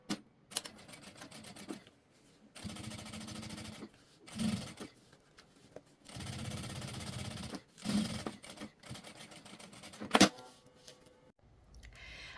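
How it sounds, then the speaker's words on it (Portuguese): A sewing machine topstitching fabric runs in several steady stitching bursts of a few seconds each. Short pauses and small clicks fall between runs, at moderate loudness. "eu vou deitar o principal sobre o excesso de material e fazer uma costura de pesponto"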